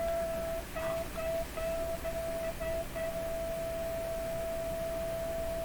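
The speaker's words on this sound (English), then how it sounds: "A little Morse code there." Morse code tones come from an Electrohome Cosmic tube radio speaker: a steady mid-pitched beep that breaks into short gaps at first, then holds as one long tone over a soft background hiss.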